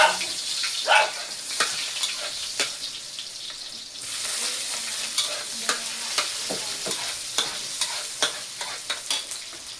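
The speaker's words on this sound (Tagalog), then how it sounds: "Igisa mo lang yung sibuyas bawang." Onion and garlic sauté in a pan for Bicol Express, a soft steady sizzle punctuated by regular scraping and tapping of a spatula stirring, close up with no talking.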